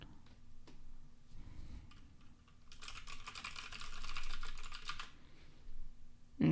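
Typing on a computer keyboard in a quiet room: soft scattered key taps at first, then a quick, steady run of clicks for a couple of seconds before it slows and stops.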